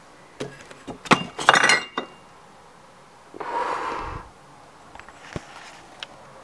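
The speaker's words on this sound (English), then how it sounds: "Move my glass." A drinking glass is shifted and clinks several times in a quick cluster, close and crisp, followed by a softer sliding scrape and a few faint taps in a quiet room.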